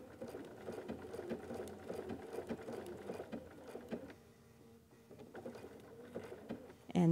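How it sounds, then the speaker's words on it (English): Sewing machine stitching appliqué around a curve, running steadily with rapid needle patter, pausing briefly to pivot with the presser foot automatically lifting, then resuming close and moderately loud. "My foot will automatically raise for me on this machine, and then I can pivot and continue to sew."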